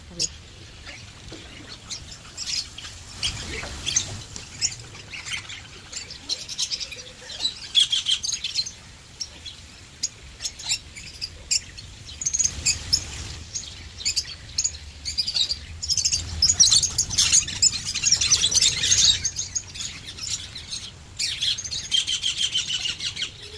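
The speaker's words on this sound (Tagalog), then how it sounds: "there's a lot of birds. Different birds." Many different birds chirp and call around Caroline Bay in Timaru, New Zealand, a dense, continuous chorus of tweets layered close and far, with people talking at times underneath.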